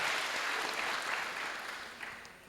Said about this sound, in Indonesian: Sekali lagi tepuk tangan yang semangat untuk 4 panelis kita.